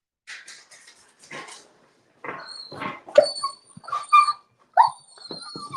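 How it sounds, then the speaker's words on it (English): A dog whimpers and whines in high, thin cries, several short bursts close by, mixed with faint background voices and sports broadcast sound. "Your dog is getting upset."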